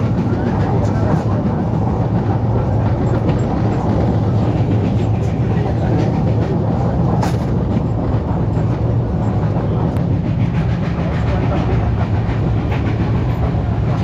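Mandovi Express train running through the Konkan near Chiplun, a steady loud rumble of wheels and carriages with faint rhythmic clatter continuing throughout.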